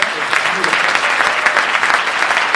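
A nice round of applause from the audience at a city address honours a high school adult choir, dense and steady throughout the short span, with voices faintly mixed in.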